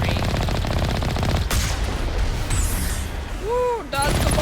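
Rapid automatic gunfire in the Mass Effect video game, a dense loud burst of shots for the first second and a half, then quieter combat noise and a final burst, with no talk.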